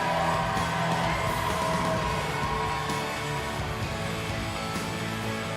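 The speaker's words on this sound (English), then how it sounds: "One more big round of applause" A crowd cheers, whoops and applauds for a podium finisher at the STIHL Timbersports U.S. Women's Championship, a sustained wash of noise with scattered shouts rising over it.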